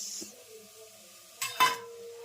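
Khaman batter with soda bicarbonate and lemon juice being stirred, a short scrape followed by a louder fizzing swirl near the end.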